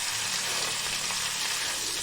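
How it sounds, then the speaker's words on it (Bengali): Okra and potatoes fry in a pan while being stirred, giving a steady, close sizzle with soft scraping and shuffling throughout, no voices. "এইভাবে নেড়ে চেড়ে ভেজে নিতে হবে।"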